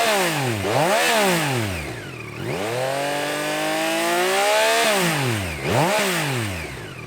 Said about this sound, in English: I think it's a great sounding bike